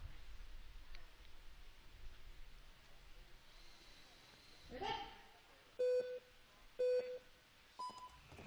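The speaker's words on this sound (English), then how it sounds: "They go on the third beep" Three electronic start tones at a speed climbing World Cup final: two long identical beeps about a second apart, then a shorter third, clear above a quiet background with faint talk.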